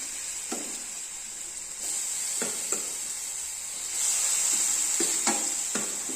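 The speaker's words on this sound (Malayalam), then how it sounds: "ഞാനിവിടെ ചെറുതായിട്ട് കട്ട് ചെയ്ത് വെച്ചിട്ടുണ്ട് അത് നമുക്ക് ഈ ഒരു നെയ്ക്കകത്തൊന്ന് വഴറ്റിയെടുക്കാം" Chopped ripe plantain sautéing in ghee: an even, bright sizzling hiss that swells slightly partway through, with a few separate spatula scrapes against the pan.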